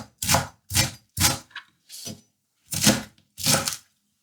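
A knife chops Chinese cabbage on a cutting board in a kitchen, six crisp, close thunks in an uneven rhythm with brief silent gaps between strokes.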